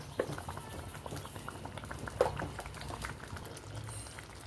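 Andhra-style gongura prawn curry boiling in a pot on a medium flame, a steady close bubbling and popping with a few sharper pops, alone without talk.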